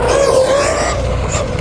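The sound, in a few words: Arrma Quake RC car motor at full throttle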